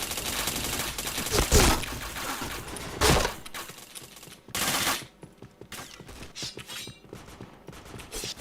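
Bursts of automatic gunfire and sharp shot cracks in a PointBlank shooter match, loud and close, alternating with brief quieter gaps.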